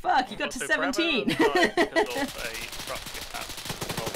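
Rapid automatic gunfire in the video game Arma 3, a dense string of shots filling the second half, with excited talk and laughter over the first half.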